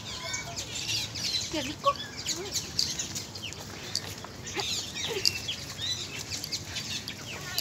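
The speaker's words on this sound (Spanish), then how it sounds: "Pajaritos." Small birds chirp and twitter faintly in scattered bursts over a quiet outdoor background on the summit of Cerro San Cristóbal, with a brief voice partway through.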